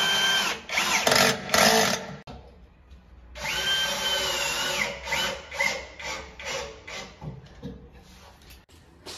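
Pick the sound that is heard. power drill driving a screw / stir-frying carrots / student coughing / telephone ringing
power drill driving a screw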